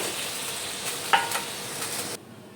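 Fish simmering and sizzling in curry gravy in a pan, a steady close hiss with a sharp clink of a utensil partway through, cutting off abruptly near the end.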